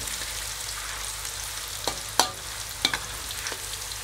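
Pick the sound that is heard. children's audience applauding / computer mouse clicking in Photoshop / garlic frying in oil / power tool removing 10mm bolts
garlic frying in oil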